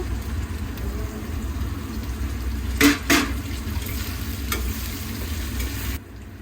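Ginger-garlic paste and two tomatoes fry in a pan with a constant, moderately loud sizzle; a pair of sharp utensil scrapes stand out midway before the sound cuts off abruptly near the end.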